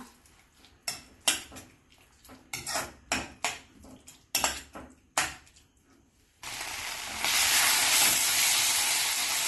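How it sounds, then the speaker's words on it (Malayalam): Chopped onion is stirred in a hot pan for a Malaysian nasi lemak sambal, with a string of sharp metal spatula scrapes and clinks against the pan, then a loud, steady sizzle that swells and holds. "ഇനി ഇതിലേക്ക് ഒരു പകുതി സവാള നേരത്തെ മുറിച്ച് ചേർത്ത് ഇളക്കി കൊടുക്കാം."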